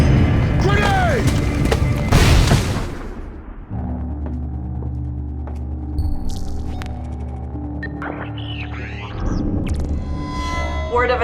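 A grenade explodes in a Splinter Cell: Blacklist cutscene with a loud, roaring blast lasting a few seconds, then gives way to a low droning rumble with scattered mechanical tones.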